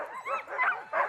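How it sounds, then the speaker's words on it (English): Several sled dogs bark and yip in quick, excited bursts in Canada, a few yelps overlapping, at moderate distance and fairly faint. "I'm sure you can hear the dogs in the background."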